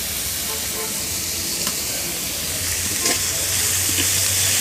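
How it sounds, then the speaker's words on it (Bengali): Chopped onions fry in hot oil with a steady, loud sizzle and hiss, broken by faint stirring clinks. "পেঁয়াজগুলো ভালো করে উল্টে পাল্টে বাদামি কালার করে ভেজে নিব।"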